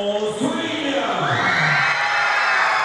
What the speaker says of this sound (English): I don't think they were quite expecting such a rousing cheer as they made their way out onto the stage